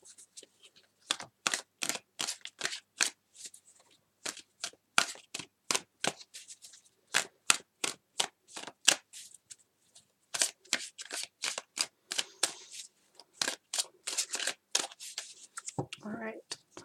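Tarot cards shuffled in rapid, crisp riffling bursts, close up, repeating in quick rhythmic flurries with brief pauses between them.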